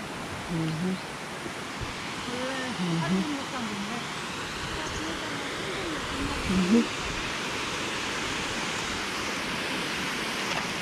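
A small waterfall on a hiking trail on Ulleungdo keeps up a steady broadband rush throughout, while people talk over it now and then.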